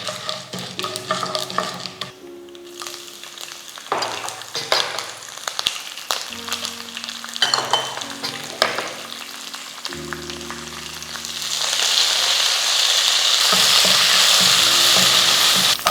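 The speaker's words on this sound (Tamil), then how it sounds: "ஆயில் சூடானதும் ஒரு டீஸ்பூன் கடுகு ஒரு டீஸ்பூன் கடலைப்பருப்பு ஒரு டீஸ்பூன் உளுத்தப்பருப்பு சேர்த்துக்கலாம்" Mustard seeds, chana dal, urad dal and chillies frying in hot oil for a South Indian breakfast tiffin, with steady close crackling and sizzling that swells louder and denser toward the end, over soft background music and no talk.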